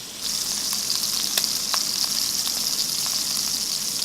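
A stuffed pork loin sears in a hot pan, giving a continuous bright sizzle with scattered pops and spits, close and steady throughout without talk.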